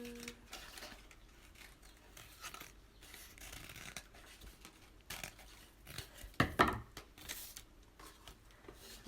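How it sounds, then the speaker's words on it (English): Scissors cutting out a paper flower shape, a faint irregular series of crisp snips and paper rustles up close, with a louder cluster of cuts partway through. "or get someone to help you cut it out."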